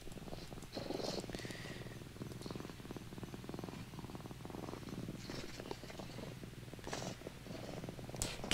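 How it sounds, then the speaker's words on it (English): A cat purrs steadily and close by, a continuous low rumble running throughout with a few faint rustles and small sounds on top. "listen to the cat purring in this one."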